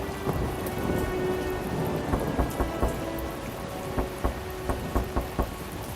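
Heavy night rain pours steadily in a thunderstorm, with a string of sharp, close thunder cracks and rumbles breaking through the dense wash of water.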